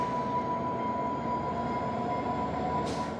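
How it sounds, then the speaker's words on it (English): Steady rumbling interior of a passenger train running toward Halifax, a constant loud rolling drone of wheels on rails with a faint high tone, no voices. "getting back on a train to Halifax to take us on a trip back in time"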